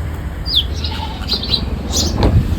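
Several short, high sparrow chirps come in scattered bursts over steady outdoor wind noise, with a brief flutter-like rustle near the end.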